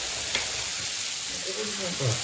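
Masala with black pepper stirred in a hot pan, a close, steady sizzle with soft scraping of stirring, a faint voice murmuring beneath it toward the end.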